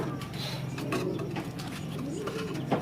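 Soft, low pigeon cooing repeats in a gentle rolling rhythm, heard close against steady background noise.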